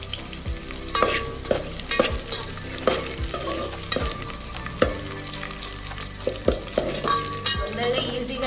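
Sliced onion and vegetables for veg biryani fry in a pan under a steady sizzle. A utensil stirs them with regular, sharp scraping strokes about once a second, close and clear.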